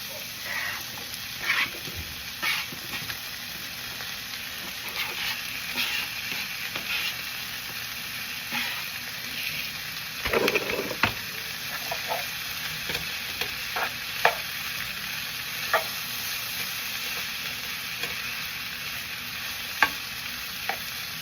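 Onions and mushrooms sauté in a pan, giving a steady soft sizzle with scattered stirring scrapes and clicks throughout, close and fairly quiet, with no talk.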